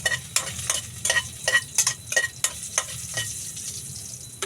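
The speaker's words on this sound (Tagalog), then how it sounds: "patsamba na luto ni mga kaibigan" A pachamba dish stir-frying with garlic and ginger sizzles steadily in the pan while a utensil scrapes and tosses it in quick, regular strokes, close up with no talking.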